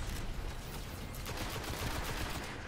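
Gunfire in the Destiny video game comes as a dense burst of rapid shots, fairly quiet and continuous, with no talk over it.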